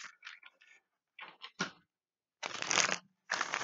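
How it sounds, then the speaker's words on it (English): Tarot cards being shuffled by hand, short papery riffles and taps in irregular bursts, then two longer, louder riffling passes near the end, close and alone without talk. "So I'm going to do some live shuffling."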